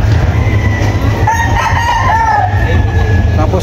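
Roosters and broodstag cocks crow and cluck at a crowded gamefowl show at SMX, with a steady hum of crowd noise throughout and no single crow standing out sharply.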